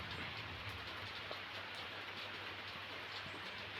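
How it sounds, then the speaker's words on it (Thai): Steady rain pours down on a dark, foggy mountain morning, a dense, even hiss of drops hitting surfaces with no pauses and no voices. "แล้วก็ ฝน ตก"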